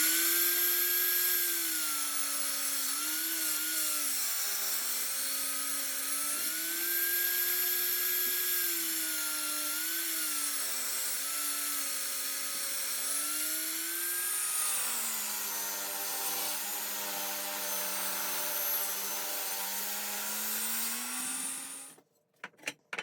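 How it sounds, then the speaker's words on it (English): Saw cutting an end grain cutting board into strips in a woodworking shop, a sustained whining cut that rises and dips in pitch as the blade works through the wood, then stops abruptly. "it's time to cut the board back into strips"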